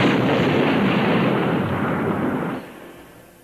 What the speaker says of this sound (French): tué par l'explosion d'une bombe dissimulée dans sa guérite